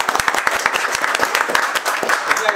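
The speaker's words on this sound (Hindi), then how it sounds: "और एक बार जोरदार ताली बजाओ एमडी सर के लिए" Loud, dense applause from a crowd at a gathering, many sharp overlapping claps rattling steadily throughout.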